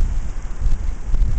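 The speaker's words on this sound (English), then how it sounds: "Still windy." Wind blowing across a snowy New Jersey neighborhood the day after a blizzard: a steady, gusty low rumble buffeting the microphone throughout, with no other clear sounds.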